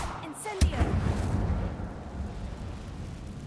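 An Incendio fire spell cast in the Hogwarts Legacy video game opens with a sharp burst, then rolls into a sustained, roaring rumble of flame that holds steady for several seconds.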